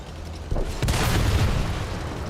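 A tank gun fires in a video game and strikes an enemy tank from behind, two heavy booms in quick succession that fade into a rumbling tail.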